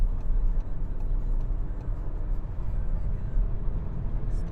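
A 2019 Skoda Octavia A7 facelift accelerates up a slip road onto the autobahn, with a steady low engine and road rumble heard from inside the cabin.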